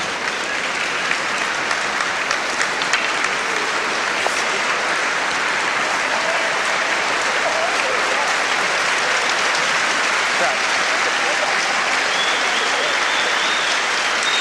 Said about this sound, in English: That round of applause you hear